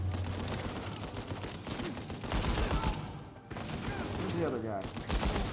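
Gunfire in Uncharted 4 on PS5: dense bursts of shots and combat noise run through the fight, with a short gap near 3.4 s, while a player speaks over it.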